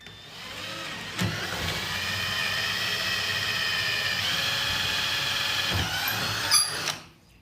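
A power drill runs steadily with a high whine for several seconds, drilling a 1/4 inch hole for a worm bin, with a couple of brief knocks, then winds down and stops.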